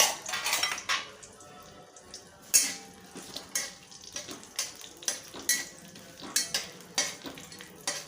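Green cardamom pods, along with dried red chillies, sautéed in a pan for a chana dal paneer pulao, with a soft sizzle under repeated metallic scrapes and clinks of a spoon stirring against the pan.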